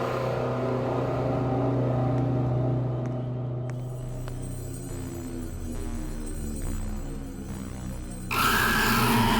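A car engine running at idle, a steady low hum with a faint whine on top, growing louder and rougher near the end.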